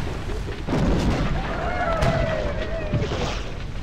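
Ship cannons booming in Sid Meier's Pirates!, a loud volley of deep blasts with rolling rumble and a whistling tone sweeping through, steady game battle noise throughout.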